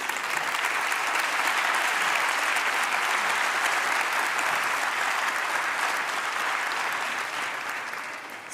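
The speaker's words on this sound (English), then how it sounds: "We all need to applaud our young generation for their creativity and enthusiasm." Sustained, dense applause from a large audience at an award ceremony for the New European Bauhaus Prizes, steady and loud for about eight seconds before tapering slightly at the end, with no talking over it.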